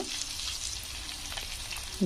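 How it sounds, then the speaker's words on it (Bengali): Grated ginger and three green chillies fry in hot oil in a pan, giving a soft, steady crackling sizzle heard close up, with a brief clatter at the end. "এটা যখন একটু ভাজা ভাজা হয়ে আসবে"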